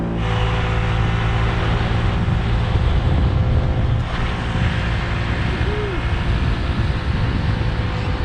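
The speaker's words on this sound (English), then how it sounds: "I'm on my Yamaha Vino 50cc little scoot." Yamaha Vino 50cc scooter riding along with a steady engine drone and heavy wind rush over the microphone, continuous and loud throughout without voices.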